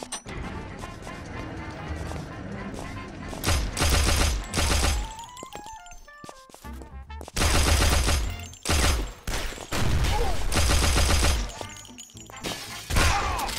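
Shotgun blasts in a gory video game shootout: loud, rapid bursts of gunfire and crashing impacts come in clusters over a steady game soundtrack, with short quieter gaps between volleys.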